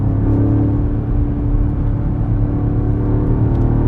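A 2026 BMW M5 Touring hybrid wagon accelerates hard, its engine a loud, steady, close-up drone that rises smoothly without pause and with no talking.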